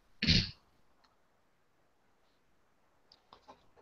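A single short, polite cough or throat clear, close and fairly loud, then near silence with a few faint soft sounds.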